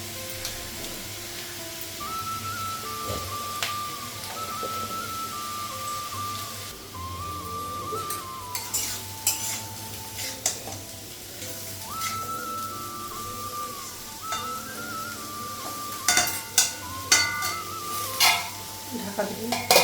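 Potatoes fry in a pan at a steady sizzle while a utensil stirs and scrapes in irregular strokes, close by, with a faint whistling tone repeating over the frying.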